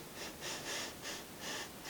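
During a speech therapy breathing exercise, a child breathes in and out in a series of short, airy bursts. The breaths are close and fairly soft and come in a loose, repeating rhythm.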